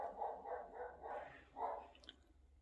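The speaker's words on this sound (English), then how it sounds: "our grocery delivery just arrived and the dogs were barking" Dogs barking indoors as a grocery delivery arrives: a run of muffled, somewhat distant barks in a loose rhythm, fairly faint, with a couple of sharper yips at the end.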